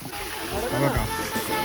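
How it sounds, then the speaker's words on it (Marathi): A pig wading into water on a farmhouse trip makes a brief splash and slosh over continuous background water noise, with a voice talking faintly. "डुक्कर बघा कसा पाण्यात गेला."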